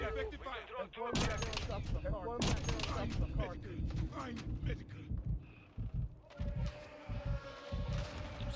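Bursts of gunfire crack through a chaotic military shooter battle against hostile forces, with sharp broadband shots clustered near the start and scattered later amid radio-style callouts and players talking over the din.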